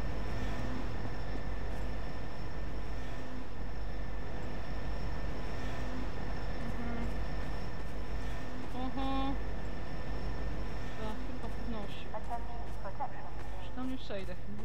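In the video game Half-Life 2, a train rumbles past with a low continuous roar and metallic squeals and clanks toward the end, while a person talks over it throughout.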